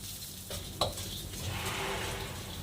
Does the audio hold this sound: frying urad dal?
yes